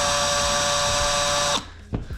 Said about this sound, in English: I think what I will do though is use the drill just to get it in initially.